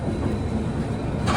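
Gurudev Express pulling into Visakhapatnam Junction platform, a brief steady low rumble of the moving train heard close and alone.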